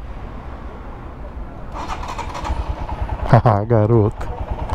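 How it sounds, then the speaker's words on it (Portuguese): A Brazilian motorcycle with a fuel injection sensor starts, its engine cranking and then catching with a rising whine at close range, and a short spoken remark follows. "Não tem mais problema para ligar."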